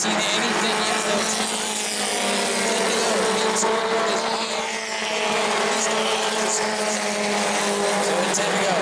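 Bomber-class stock cars race at New Smyrna, a dense continuous roar of several engines blending together, loud and steady throughout with only a brief dip in the middle.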